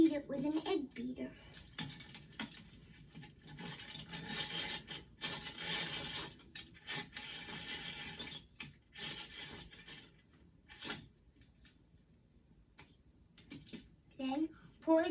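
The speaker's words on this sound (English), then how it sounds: "then beat it with an egg beater." Egg beater whisking milk in a bowl, giving scratchy, rasping bursts of irregular strokes that start and stop, fairly close and moderately loud, with no voices.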